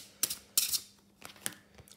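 Tarot cards being shuffled by hand give quiet papery riffling and soft snaps in a few short bursts, close and alone, with no talking.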